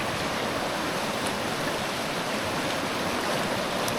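Running water sloshes steadily as black sands are rinsed in a gold pan at a creek in Idaho's Yankee Fork area, a continuous close rushing wash with no talk.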